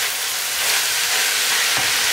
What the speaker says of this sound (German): Ein bisschen umrühren, dann kommt gleich Paprika rein.